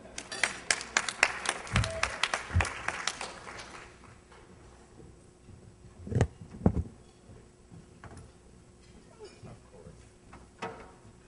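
An audience at a policy brunch claps in a short burst of applause that quickly thins to scattered claps and fades, with a few later claps and murmurs.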